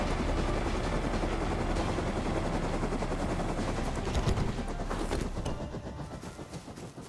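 A helicopter in the survival video game Rust flies with a continuous, loud rotor and engine roar that thins out slightly toward the end, with no speech over it.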